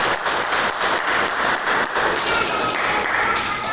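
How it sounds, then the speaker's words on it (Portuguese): Congregation at a church service applauding after a Bible reading, a steady dense wash of many hands clapping close by with no break, filling the whole moment on its own. "Aplaude a palavra de Deus, que é santa e é bendita"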